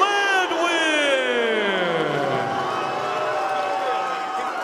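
Crowd at an XFC 20 MMA event in Knoxville, Tennessee roars and cheers in a sustained, dense wash of voices with loud yells and whoops, staying steady throughout after a TKO finish and a scuffle.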